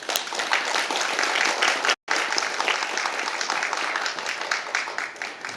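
Audience applause at a policy forum on childcare support, a dense, loud round of clapping from a room full of people, broken by a brief cut near the middle, then continuing steadily.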